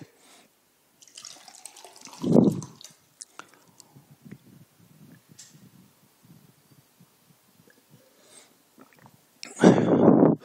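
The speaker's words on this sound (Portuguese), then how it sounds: "Só tomar um golinho d'água aqui" A person takes small sips of water, heard as two short, close gulping bursts separated by quiet, with faint mouth noises in between.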